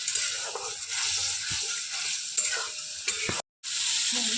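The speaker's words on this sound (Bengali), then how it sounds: "পাঁচ মিনিটের মতন ভেজে নিলে কাঁচা বাসটা যাবে এখান থেকে।" Okra frying in oil in a pan, a steady close sizzle with occasional stirring scrapes and clicks, plus a brief drop to silence near the end.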